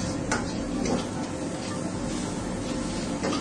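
Pad thai noodles and vegetables stir-frying together in a hot pan, a steady broadband hiss and sizzle with occasional scraping clinks of a utensil against the pan, close and continuous.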